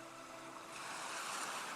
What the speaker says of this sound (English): As you listen to the waves,